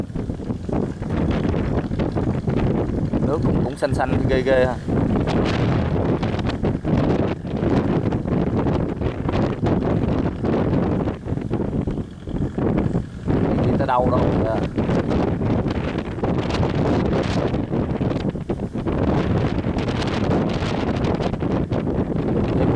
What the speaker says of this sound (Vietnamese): gió ồn ồn gió cũng khiếp gió quá thổi